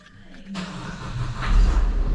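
A Peugeot 3008 engine, just fitted with a new flywheel, cranks and catches after a short quiet start, then settles into a rising, building idle that grows louder toward the end.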